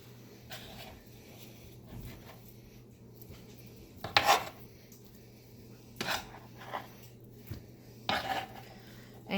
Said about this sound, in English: So I'm just going to grab them and toss them into my pressure cooker.